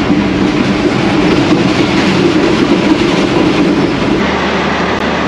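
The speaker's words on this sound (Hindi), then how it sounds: "ज़बरदस्त ट्रैक साउंड अहमदाबाद को थ्रू पास करते हुए।" Train wheels running on track, heard from the last coach of the Subak Kharam passenger train passing through Ahmedabad, a loud, constant rumble with rattling clatter throughout and no voices.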